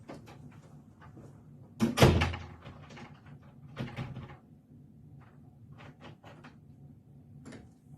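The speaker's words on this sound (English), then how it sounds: "He's unlocking the door at some point." A door is unlocked in a quiet room: scattered metallic clicks and rattles, one louder clunk near the start and another a couple of seconds later, heard up close with no talking.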